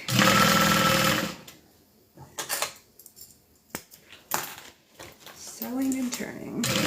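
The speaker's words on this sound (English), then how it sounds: "So I'm just sewing and turning." A sewing machine stitching a quilted bag runs in a loud, close steady burst, then stops; quieter fabric handling, clicks and brief talk follow before the motor picks up again.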